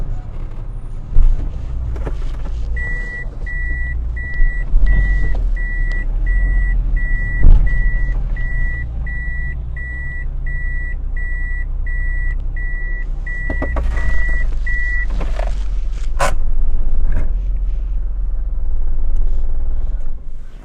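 A car parks outside while a steady train of rapid reversing beeps pulses for several seconds over a low engine rumble, with a few sharp knocks and clatters nearby.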